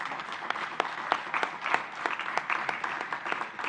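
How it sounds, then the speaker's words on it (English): An audience at a 48th annual commencement ceremony applauds warmly, with dense, continuous clapping from a large crowd that holds steady throughout. "If we could give all of them a round of applause."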